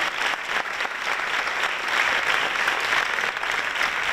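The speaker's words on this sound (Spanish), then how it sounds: "Para él también os pido un segundo aplauso, que es César Aldana." A festival closing-ceremony audience gives steady, even applause, a continuous wash of many hands clapping at close range with no break.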